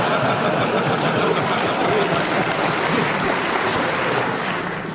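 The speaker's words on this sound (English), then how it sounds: "Well, Audience, you can clap if you like." A theatre audience at a comedy panel show recording in Golders Green claps continuously, a thick, even sheet of applause that tapers slightly at the end, with a few chuckles mixed in.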